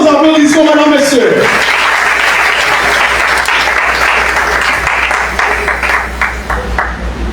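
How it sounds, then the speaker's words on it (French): An indoor audience at a dean's speech bursts into loud, dense applause that starts abruptly and holds steady for several seconds, then thins slightly toward the end, following a brief spoken introduction. "Sous vos applaudissements, madame, messieurs."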